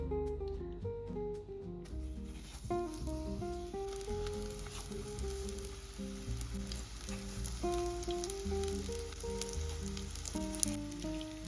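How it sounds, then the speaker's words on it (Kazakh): Syrniki frying in oil in a pan over medium heat, a steady soft sizzle running throughout beneath prominent background music, with no speech. "Сковородкаға мен сұйық май қостым. Орташа отта менде қазір тұр."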